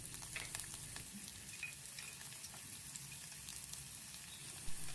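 Slit green chillies and onions sauté in hot oil for a valari payar mezhukkupuratti. A soft, steady sizzle with scattered crackles sits at low volume, with no talk.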